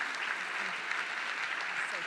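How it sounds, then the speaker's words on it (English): An audience applauding a morning panel at a talk on special agents in WWII, steady dense clapping that fills the room at a moderate level throughout. "round of applause for our wonderful morning panel."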